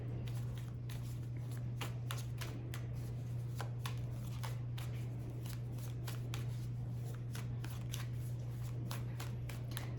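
Tarot cards shuffled over and over, a fast, close series of crisp riffling flicks running throughout over a steady low hum.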